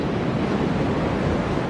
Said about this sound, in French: Ça résiste aux vagues?